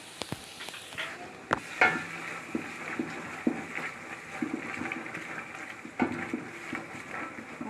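Spice mix with ginger-garlic paste frying in a pan for morog polao (chicken pilaf), a soft steady sizzle broken by occasional spatula scrapes and light clinks against the pan.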